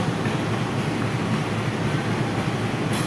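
The Pasundan economy train, hauled by a CC 203 locomotive, gives a steady loud broadband rumble and hiss of rolling wheels, continuous and close with no voices.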